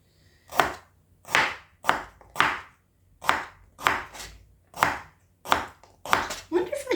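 Knife chops through unpeeled carrots on a board, about ten crisp, evenly spaced strokes near and loud with short quiet gaps, no talking.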